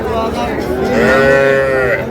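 A single long, deep moo from a cow close by at a cattle market, swelling in the middle and trailing off, loud and alone.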